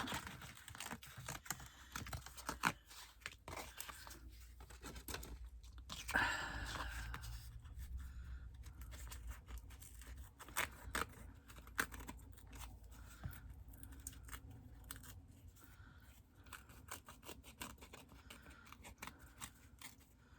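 Scissors snip through paper card to cut out a frame, giving soft close clicks and crisp cuts in an irregular run, with one louder rustle partway through and quiet handling between cuts.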